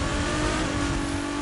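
A car engine in The Crew 2 on a street or hypercar drive roars steadily at high revs, a dense, brassy tone with a sustained hum, close and loud and without speech.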